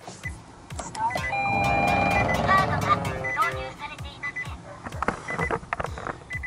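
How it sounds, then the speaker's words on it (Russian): A Nissan Leaf side mirror folding with a faulty motor, giving a strained whirring and grinding drone over repeated clicks, close and fairly loud, with a beep-like tone partway through. "Зимой зеркала плохо складывались."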